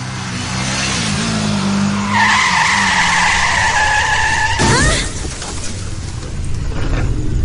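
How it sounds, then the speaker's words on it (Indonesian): A motorcycle accident sound effect: an engine revs, then tires squeal in a long rising skid before a sudden crash-like burst, followed by a noisy aftermath. "Terjadi kecelakaan motor."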